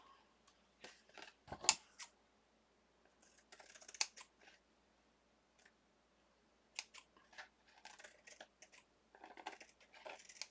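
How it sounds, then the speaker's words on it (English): Quiet, close snips of tiny curved scissors trimming small craft pieces for a spring birdhouse, irregular bursts of light crisp cuts with pauses between, no talk. "I got tiny little scissors here. That are curved."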